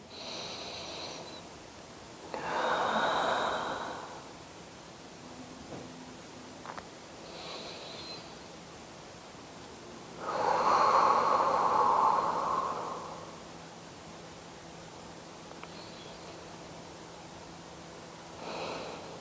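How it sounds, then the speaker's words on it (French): Deep, slow breaths during a relaxing yoga session, with two long airy exhales standing out clearly against quiet background hiss and softer breaths between them. "Et on respire de grandes respirations."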